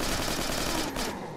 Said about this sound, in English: I'm glad I brought this machine gun.